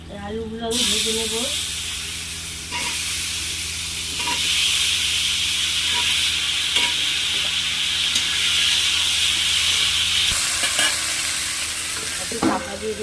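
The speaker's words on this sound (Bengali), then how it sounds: "আলুগুলো আমি ভেজে নেব।" Potatoes sizzle steadily in hot oil in a wok, with a loud continuous frying hiss and intermittent scraping clicks of stirring throughout.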